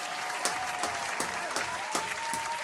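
Applause rolls through a modest crowd, a steady even patter of many hands with soft periodic swells, moderately distant and without talk over it.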